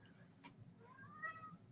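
A domestic cat meows softly a couple of times in a quiet room, faint and close, with a brief rustle early on.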